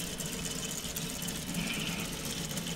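A solar-powered K'nex model V8 engine with camshafts and rockers runs as a soft, continuous mechanical whirring and clicking, steady and fairly quiet throughout.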